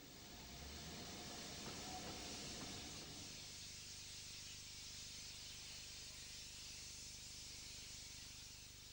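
Peppercorn Pacific steam locomotive Blue Peter pulling away on a rail tour, a loud, steady roar of hissing steam with heavier low rumbling chuffs in the first few seconds, then a continuous broad wash of sound.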